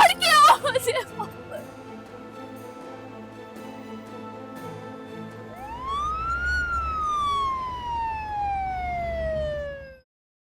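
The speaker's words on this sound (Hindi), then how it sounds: "ये बाहर एम्बुलेंस क्यों खड़ी है?" An ambulance siren wails outside a house, rising then slowly falling in a long sweeping tone that fills the second half, after a brief burst of voices and background music.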